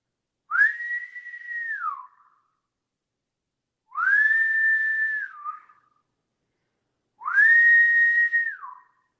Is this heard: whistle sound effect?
yes